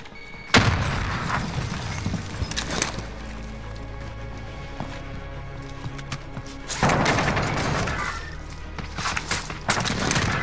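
A frag grenade going off in Call of Duty Warzone, with heavy booming blasts and crashing debris in two main bursts among a steady game background.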